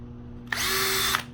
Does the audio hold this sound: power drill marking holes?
yes